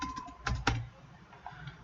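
Computer keyboard typing during an Automation Anywhere A360 software session: a few quick, close key taps cluster in the first second, then a couple of lighter clicks follow.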